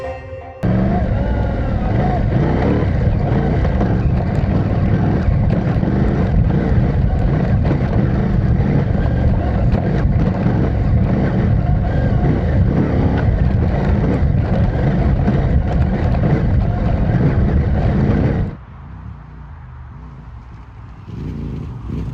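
A CFMOTO 450MT adventure motorcycle riding through dry forest enduro terrain, its engine a steady loud drone with throttle changes for about eighteen seconds before dropping to a quieter idle-like rumble.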